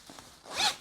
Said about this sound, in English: YKK AquaGuard zip.